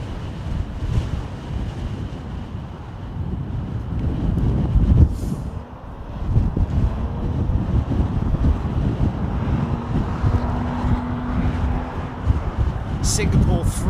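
Gusty wind roars and buffets the microphone at London Heathrow Airport, a steady low rumble with surging peaks and a brief lull midway, while a voice talks faintly underneath.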